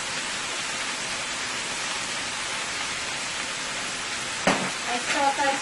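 Stir fry sauce and sesame oil sizzle in a hot pan with fried fish and vegetables, making a steady, loud hiss like rain. Near the end a sharper clatter and bubbling surge break through.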